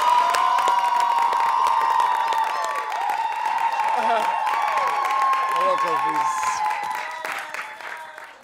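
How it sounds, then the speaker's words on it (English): A studio audience cheers and claps to welcome a talk-show guest, with whoops and shouts over the clapping while a host speaks through it. "Please, a round of applause."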